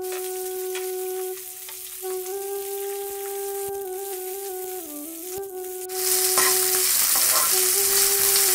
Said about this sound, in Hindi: अब इसमें कटा हुआ प्याज डाल दें।